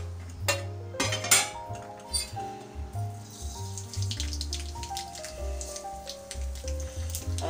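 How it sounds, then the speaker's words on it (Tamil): Mustard seeds crackle and sizzle in hot gingelly (sesame) oil in a pan while kozhukattai seasoning is prepared, giving a busy spread of small pops and hiss with clinks of utensils throughout, fairly close. "கல்லெண்ணெய் கொஞ்சம் ஊற்றிருக்கேன். கல்லெண்ணெய் கொஞ்சம் ஊற்றணும். இப்போ நம்ம கடுகு போட்டுக்கலாம்."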